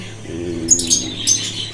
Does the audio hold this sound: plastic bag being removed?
no